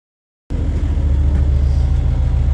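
A diesel school bus engine idles after a cold start in Alaska: after half a second of silence a loud, steady, low rumbling clatter begins and runs on evenly, close by and with no talking.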